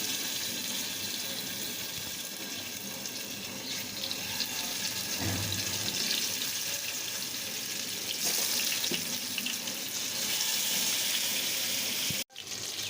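Pieces of hilsa fish fry in hot oil with a steady, hissing sizzle that runs throughout and grows a little louder partway through, then stops abruptly at the end.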